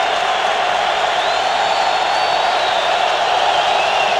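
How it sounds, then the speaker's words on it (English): A packed football stadium crowd at a Broncos at Colts wild card playoff game in Indianapolis roars in a steady, dense wall of cheering, loud and continuous throughout. "Crowd has been up-tempo since the opening kickoff."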